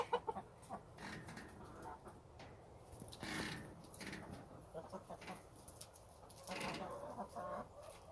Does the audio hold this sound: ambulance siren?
no